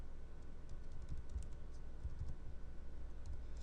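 Keystrokes on a computer keyboard as router configuration commands are typed, soft close clicks in short irregular bursts over a steady low hum, with no talking.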